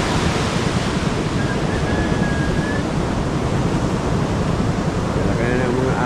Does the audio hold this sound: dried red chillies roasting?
no